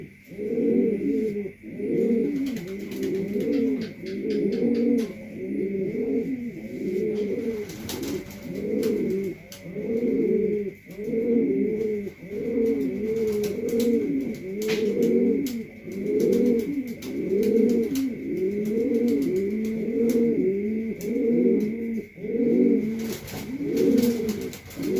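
A checker cock racing pigeon of the 003 line coos over and over in a steady, rolling rhythm of low throaty phrases, close and fairly loud, with no voices.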